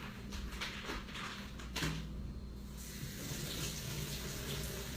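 Beef meat and bones are rinsed under a running kitchen tap, a steady rush of water that briefly breaks with a clunk before flowing on, close and moderately loud.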